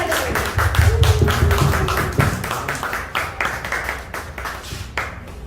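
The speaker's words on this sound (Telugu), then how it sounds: "Let's clap together." A gathered audience at a youth gathering claps together, many hands slapping in a loud, fairly quick steady rhythm that thins out toward the end.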